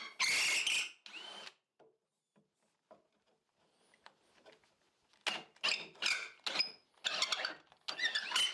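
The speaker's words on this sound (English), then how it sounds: "this is a 20-volt drill" Loud bursts of a 20-volt cordless drill whining at high pitch while boring a hole, starting and stopping repeatedly, with a quieter stretch in the middle before several more short runs.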